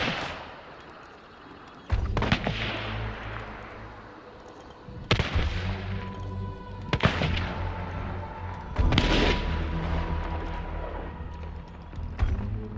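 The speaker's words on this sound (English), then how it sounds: "Long ammo has a violent snap to it. It sounds scary even at a distance." Long ammo gunshots in the video game Hunt: Showdown, about five sharp, violent cracks fired at irregular intervals over a background rumble, each followed by a rolling echo.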